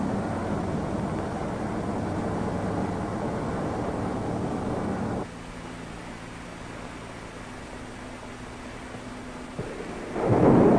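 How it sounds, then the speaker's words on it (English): The multi-barreled liquid-oxygen and water-alcohol rocket engines of an X-15 fire in a loud, sustained roar, dropping to a steadier low rumble midway, then swelling again sharply near the end. "Crew members move to the protective shelter of the blockhouse as the engines are primed for light-up"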